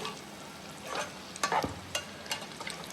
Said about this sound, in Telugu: ఎగ్ అనేది 2 సైడ్లు బాగా క్రిస్పీగా ఫ్రై అవ్వాలి